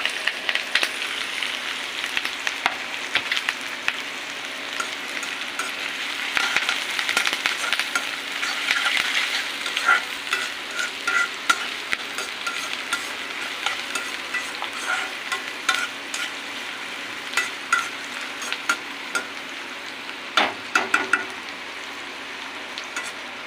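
Onions and curry leaves frying in a pan while being stirred, a continuous sizzle with scattered sharp clicks of the spoon against the pan, close and steady throughout, no speech.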